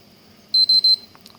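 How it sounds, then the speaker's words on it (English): An electronic device on a workbench, used while testing for a shorted MOSFET, gives three short, even, high-pitched beeps as it shuts off, followed by a faint click, with no talking. "It shuts off with 3 and 3 more beeps."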